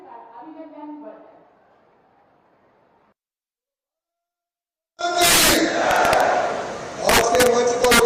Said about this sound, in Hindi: जोरदार तालियों के साथ अभिनंदन वर्धन